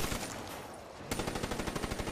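Pack-a-Punched Haymaker shotgun in Black Ops 3 zombies mode, a dense burst of gunfire and then a rapid, evenly spaced run of loud automatic shots.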